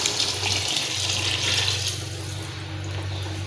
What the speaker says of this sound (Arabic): نزيد لها الماء